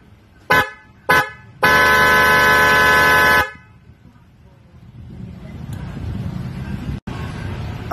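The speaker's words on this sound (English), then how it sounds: "High pitch European sports car horn quality." Osun sports horn, a high-pitched European sports car style horn for cars or motorcycles, blasts twice briefly and then holds one long loud honk, followed by quieter background noise.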